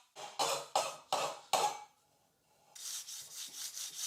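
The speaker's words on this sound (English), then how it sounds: "I file the ends nice and smooth and remove any burrs." A file rasps across the cut ends of a metal tube in four or five firm strokes, followed by a softer, steadier scraping. Close and fairly quiet, with no talking.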